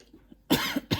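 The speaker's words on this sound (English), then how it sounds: "cough again" One person coughs close by indoors, a couple of sharp bursts after a quiet pause, during a gel nail paint demonstration.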